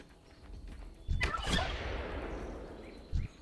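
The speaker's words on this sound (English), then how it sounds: "I don't know what to do with the wild turkeys" Wild turkeys gobble outdoors at a moderate distance, with one strong rattling gobble burst early on and a shorter call near the end over quiet background.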